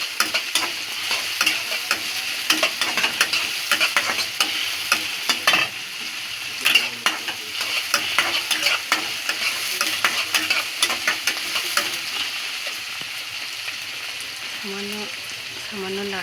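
Onions frying in oil for a vegetable khichuri, stirred again and again. A steady, close sizzle runs throughout, broken by repeated scraping and clattering strokes of the spoon, with no talking.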